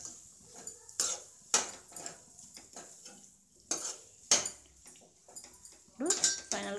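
A potato and fenugreek curry with chili powder and salt is stirred in a pan. Repeated metal spoon scrapes and clinks come in uneven bursts, with quiet gaps between them.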